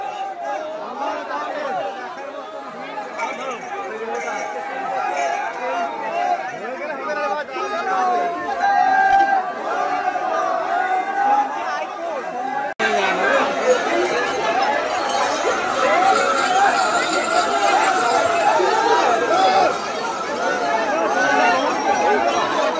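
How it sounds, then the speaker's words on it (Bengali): Dense crowd chatter fills Tarakeswar railway station during the Shravani Mela pilgrimage, a steady babble of many voices that grows louder and busier partway through. "স্টেশন থেকে ভিড়টা দেখুন আপনারা কিরকম, সবাই যাচ্ছে, প্রচুর ভিড়।"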